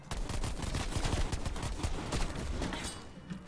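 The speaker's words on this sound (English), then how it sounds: "I just fucking mag dumped him" Call of Duty zombies gunfire as a whole magazine is emptied: rapid, dense bursts of shots rattling continuously for over three seconds, loud and close, with no talking.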